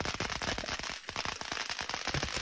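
A ground firework set down and left to burst in place during New Year's Eve festivities, giving a dense, continuous run of sharp crackling pops and bangs, loud and close.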